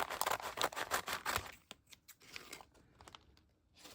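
Scissors snip through fabric and paper scraps for a quilt junk journal cover, a quick run of close crisp cuts followed by softer rustling and a few lighter snips.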